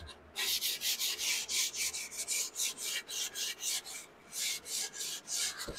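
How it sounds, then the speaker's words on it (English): Fine 220-grit sandpaper rubs along the edges of a live edge wooden serving board in quick, rhythmic back-and-forth strokes, a soft, close scratchy rasp repeating steadily with brief pauses. "I'm going to do a little bit of a fine sand on these edges, just to make everything kind of perfect."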